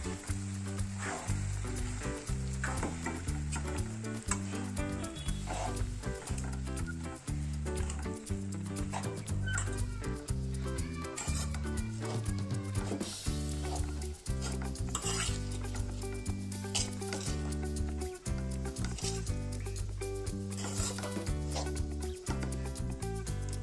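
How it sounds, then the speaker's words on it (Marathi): Poha with spices is stirred and scraped continuously in a hot pan for over twenty seconds, with a steady sizzle running underneath the clatter of the spoon. "त्यामध्ये पोहे टाकू। सर्व मसाले मिक्स करून घेऊ।"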